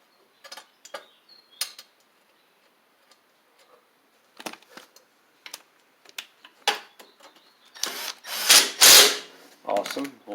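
A 5/16 socket on a ratchet turns in short bursts of clicking, sparse at first and then a louder, denser run of rapid pawl ticks near the end, close up with no talking, while work goes on at a Craftsman LT2000 lawn tractor.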